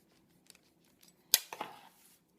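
A knife trims a Pokémon buttercream transfer around the edge of a cake, giving one sharp, close scraping cut followed by a few softer crackly slices, with quiet handling in between and no speech.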